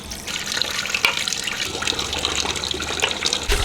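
Tap water runs steadily and fairly loudly while tangra fish are washed, a continuous close splashing with occasional brief knocks and no talking.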